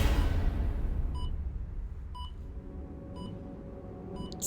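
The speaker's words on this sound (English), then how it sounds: "Still the countdown is happening in the background. Beep, beep." A countdown beeps in a Stargirl Season 1 Episode 12 TV scene: short, evenly spaced electronic tones about once a second, faint over a low background rumble.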